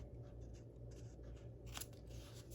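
A paper trimmer slices through paper, a quiet scraping swipe heard up close, with a brief sharper cut near the end over soft room noise.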